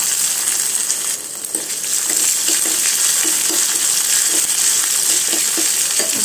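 Garlic frying in a pan for an Odia kanji dish, a steady bright sizzle with soft stirring scrapes throughout, close and continuous.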